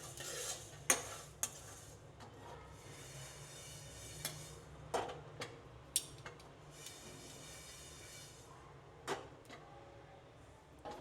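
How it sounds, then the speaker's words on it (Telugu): Star anise, coconut pieces and mace are dry-fried in a pan. A spatula clicks and scrapes sharply at irregular intervals over a faint, steady background. "అనాస పువ్వు, కొబ్బరి ముక్కలు, ఇది జాపత్రి. 2 minutes లో ఫ్లేమ్లో ఫ్రై చేసుకోండి."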